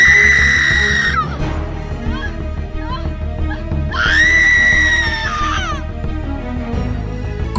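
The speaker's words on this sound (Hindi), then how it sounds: "तुम चीख क्यों रही हो?" A woman's piercing scream in a Hindi horror story, long and loud, rising again in a second shrill wail, alone over a low droning background.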